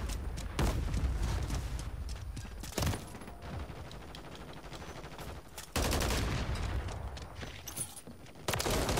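A remote turret killstreak fires in Call of Duty MW3, with sustained rapid gunfire rattling at mid distance, punctuated by a few louder sharp blasts and continuous battlefield noise.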